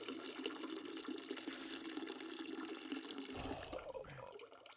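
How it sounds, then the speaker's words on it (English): Water runs steadily from a sink tap in an apartment, a continuous soft hiss with some faint splashing. It stays fairly quiet and is heard alone, without voices. "Can I use the sink just this one time?"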